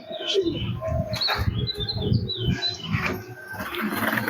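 Pigeons at a pigeon sale flap their wings in repeated close bursts, mixed with steady cooing and chirps from a crowded loft, with no voices.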